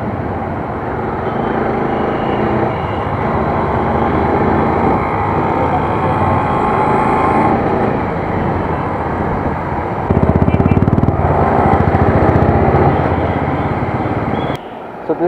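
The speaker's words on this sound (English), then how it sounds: "So this is the Dominar 400, and I have taken it for a test drive." A Bajaj Dominar 400 motorcycle on a test ride, its engine droning steadily and loudly with rushing wind throughout, the pitch rising briefly near the end before cutting off.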